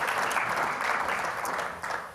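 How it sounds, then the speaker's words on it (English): A conference audience at a sustainability event claps for a fireside session's guests, producing a steady wash of applause that is fairly quiet and distant throughout, with a slight dip near the end. "So a round of applause for my guests"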